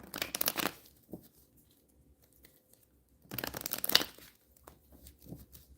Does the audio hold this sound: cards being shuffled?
yes